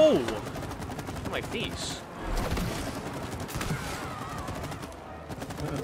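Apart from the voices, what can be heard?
gunfire from shooting in a video game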